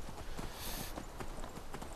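Horse hooves clip-clop steadily across the ground in the video game Skyrim, a quick, close, even rhythm of hoofbeats filling the whole stretch with no talking over it.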